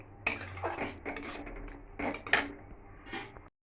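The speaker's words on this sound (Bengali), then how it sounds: "এবার এটা দিয়ে ভালো করে নাড়াচাড়া করব।" A utensil stirring a paneer mixture in a pan for chilli paneer, with several distinct scrapes and clinks against the metal, close and fairly quiet, with no talk.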